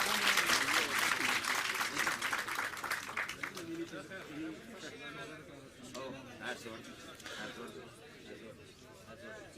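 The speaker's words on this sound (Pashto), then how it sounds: "تاسې په ویاړ چکچکې وکړئ" Audience clapping at a political gathering, loud at first and then thinning into scattered claps under crowd chatter and voices.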